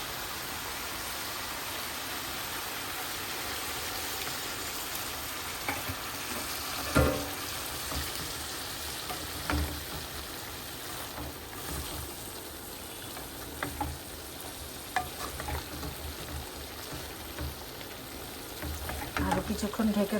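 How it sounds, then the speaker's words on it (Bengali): Bitter gourd curry with potato and prawns cooks in a pan, giving a faint, continuous sizzle and bubble with occasional soft clinks of stirring. "এখন ঝোল দিয়ে দেবো একটু।"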